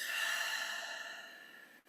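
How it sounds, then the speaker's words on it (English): A single slow exhale during a guided meditation, a soft airy breath that starts fairly full and gradually fades out over about two seconds, heard alone and close. "Breathing out."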